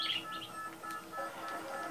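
Pet birds chirp faintly in the background of a Metroid Prime play session, with a few short, high tweets scattered across a brief quiet stretch.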